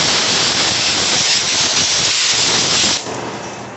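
Compressed air blasting debris off an Echo CS-306 chainsaw, a loud, close, steady hiss that drops sharply near the end.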